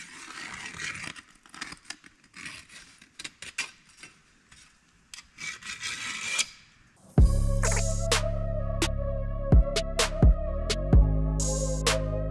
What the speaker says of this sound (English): I'm just gonna use this this little deburring tool.